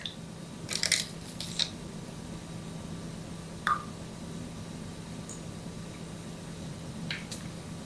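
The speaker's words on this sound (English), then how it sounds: "Make sure your spoon doesn't clang or touch the sides of the teacup like that." A teaspoon clinks against the sides of a china teacup, a few sharp metallic taps spaced irregularly over a quiet room hum, close and fairly faint, with no speech.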